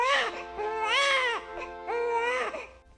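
Person crying, loud close wailing sobs in two long drawn-out rising and falling cries with a brief catch of breath between them.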